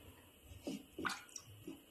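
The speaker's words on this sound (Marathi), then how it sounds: "मी थोडंसं गरम पाणी घेणार आहे या भांड्यामध्ये आणि हे भांडं स्वच्छ धुवून काढणार आहे" Brief splashes and swishes of hot water in a pot, a few short bursts close by, as the pot is rinsed clean.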